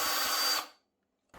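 A power drill whirs loudly and steadily, removing the screws from a faulty washing machine pump, then cuts off into silence before a faint clatter at the end.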